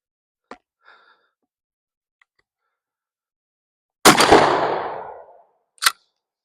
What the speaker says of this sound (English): Smooth little pump action shotgun, as I say.